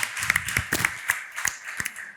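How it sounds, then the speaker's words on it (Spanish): Scattered claps from a small audience at a cardiovascular health panel, sparse individual hand claps at irregular intervals rather than a full ovation, fairly close and moderately loud. "Un aplauso."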